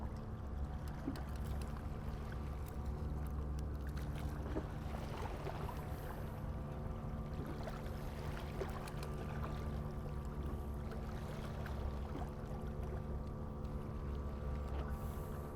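A speedboat motor drones steadily as it passes across the water during light-tackle LRF fishing, a continuous low engine hum with wind and water noise, no talk.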